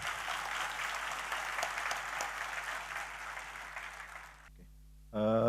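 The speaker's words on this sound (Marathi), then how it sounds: "मग टाळ्या तशाच पाहिजेत ना." Audience at a corporate team strategy presentation event applauding, dense sustained clapping that fades out after about four and a half seconds, followed by a brief burst of another sound at the end.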